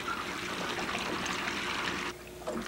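Water drops trickle into a container in a steady splashing stream, a close, fairly bright flow that cuts off abruptly near the end, leaving a faint drip after it, with no voices.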